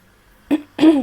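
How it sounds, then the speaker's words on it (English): Two short throat clearings in a row, close and fairly loud, the second longer and raspier than the first, with quiet between them. "Feeling the need to clear my throat again."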